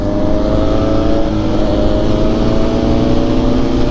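A motorbike cruises along a highway into Goa, its steady engine drone loud and constant, mixed with heavy wind rush and no break in the noise.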